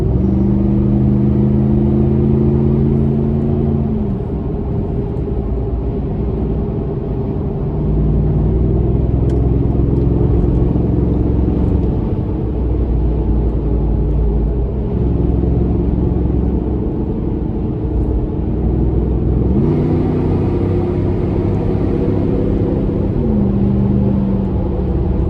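A truck fitted with a Magnaflow Overland exhaust cruises at highway speed, with a steady low engine and exhaust drone and road rumble throughout, plus occasional shifts in tone.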